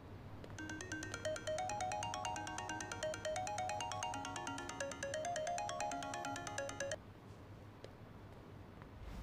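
A telephone plays a melodic electronic ringtone, a repeating tune of bright tones that runs for several seconds and then stops, heard faintly in a quiet office.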